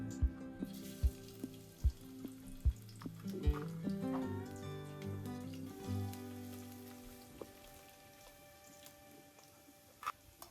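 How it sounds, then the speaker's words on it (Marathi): Garlic hits hot oil in a home kitchen as a spicy fish fry is cooked, giving a steady, close crackling sizzle broken by sharp pops near the start, over a faint tonal background. "आता आपल्याला टाकून झाले तेल, आणि आता टाकतोय लसूण."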